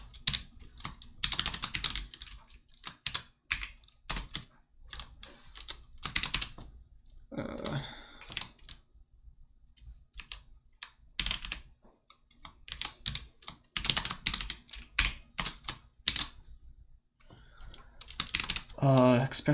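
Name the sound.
computer keyboard typing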